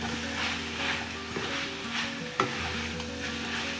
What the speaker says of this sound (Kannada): ಈ ರೀತಿ ಸೌಂಡ್ ಬರೋ ತನಕ ಫ್ರೈ ಮಾಡ್ಕೋಬೇಕು